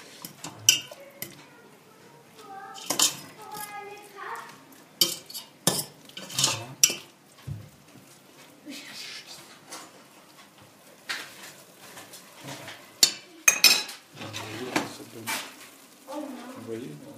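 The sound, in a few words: stirring chicken colombo with potatoes in pot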